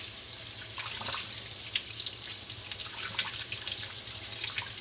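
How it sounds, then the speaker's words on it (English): Steady rushing, splashing water flowing continuously at close range through a Fluval 406 aquarium canister filter, with no voices. "I'm going to go ahead and get water flowing through it"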